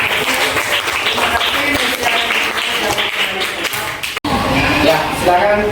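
Applause from a group in a classroom, steady and fairly loud for several seconds with a brief dropout near the end, mixed with some voices.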